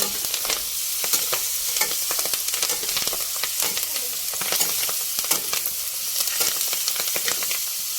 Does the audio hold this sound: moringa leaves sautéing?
yes